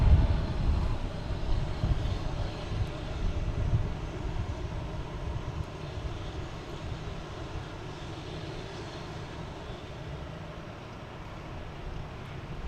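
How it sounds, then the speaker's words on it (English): A Delta Airbus A220 jet taking off at Boston Logan, a broad distant engine roar that is strongest at first and slowly fades as it moves away, with no talk. "next we got Delta at A220 heading to Chicago"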